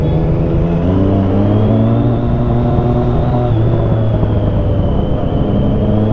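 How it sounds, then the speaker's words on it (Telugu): Heavy road traffic rumbles past close by in a constant loud drone, with a car engine revving and humming through the whole stretch and no voices. "ట్రాఫిక్ అయితే చాలా ఎక్కువైపోయింది."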